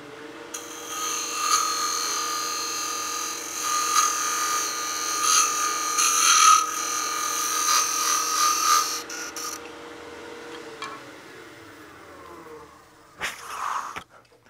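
On a wood lathe, a turning tool cuts the inside edge of a small wooden baby rattle. It makes a steady whirring, scraping tone for about nine seconds, then the tone drops off and a brief knock follows near the end.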